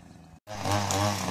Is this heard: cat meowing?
no